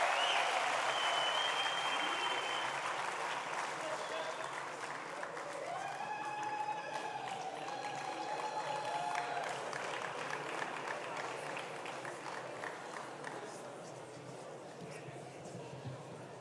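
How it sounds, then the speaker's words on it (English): An audience gives Ladysmith Black Mambazo a warm round of applause at a live show, steady dense clapping with some crowd voices, loud throughout and slowly fading over about sixteen seconds. "I'd like us to give them a very warm round of applause"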